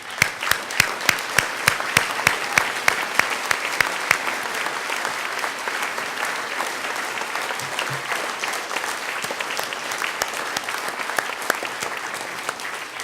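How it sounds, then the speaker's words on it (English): Sustained audience applause for CSPI alumni standing at a celebration event, dense steady clapping from a large room that holds evenly throughout, with a few sharper nearby claps at the start. "a round of applause for them as well, please"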